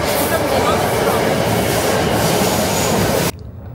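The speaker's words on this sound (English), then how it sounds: "We are in a funicular." A funicular lift at a metro stop runs with a loud, steady rumbling roar of wheels and machinery, which cuts off abruptly near the end, leaving a quieter background.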